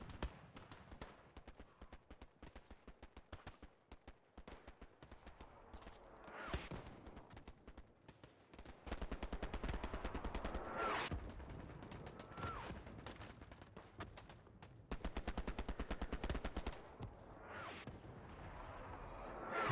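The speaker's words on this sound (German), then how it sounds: "Hier ist man auf jeden Fall ziemlich stark unter Beschuss." Sustained gunfire and rattling machine-gun bursts on a World War II battlefield in Hell Let Loose, long rapid volleys with occasional louder blasts, heard close and without any talking.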